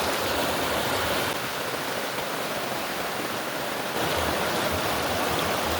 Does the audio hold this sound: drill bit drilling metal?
no